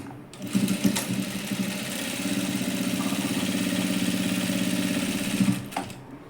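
A sewing machine stitches a cut-side dress, with a steady, close whirring run of rapid needle strokes lasting several seconds, bracketed by brief starts and stops and no talk.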